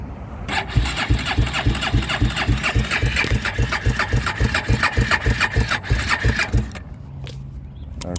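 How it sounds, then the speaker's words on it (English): A Kawasaki KFX400 ATV engine fires up and runs with a rapid, rhythmic chugging, loud and close, then cuts out near the end, leaving a quieter hum. "It just fired up. As you see, she runs."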